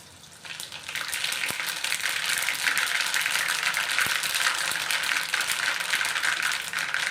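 A steady, loud crackling sizzle of food frying in hot oil starts abruptly and continues, with occasional faint clinks.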